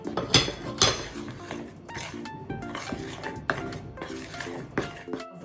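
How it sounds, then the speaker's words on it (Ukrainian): A utensil clinks and scrapes repeatedly against a bowl, stirring dry ingredients (baking powder, salt and starch) for savory muffins in a steady rhythm, close and fairly loud, with no talking. "Все гарненько перемішуємо."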